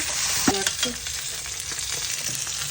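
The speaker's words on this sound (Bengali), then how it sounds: "সামান্য একটু জল দিয়ে আমি ভালো করে মশলাটা কষা নিব" Masala spices sizzle and fry in a pan with a little water for a Bengali dish, a steady hiss broken by a few sharp spatters and stirring scrapes near the start.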